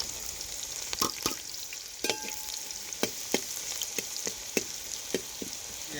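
A steady hiss of chopped red onions frying in a pan, with light scraping taps from stirring about once a second.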